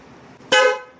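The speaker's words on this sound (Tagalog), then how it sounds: "Busina tayo malakas." A newly installed MXR M-75 Super Tone electric horn gives one loud, short honk of about half a second. It has a bright, harmonic tone and sounds close by, with only a quiet background before it.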